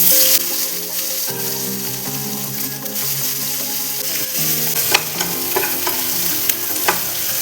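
Onions sautéing in a pan for prawn fry, a steady close sizzle with stirring scrapes and a few sharp clicks, while background music plays throughout.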